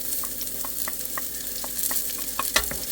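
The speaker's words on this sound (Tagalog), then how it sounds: "Ilalagay na natin ngayon yung ating bawang." Garlic fries in a pan while being stirred, a steady soft sizzle close by with light scraping taps from the utensil scattered throughout and no talking.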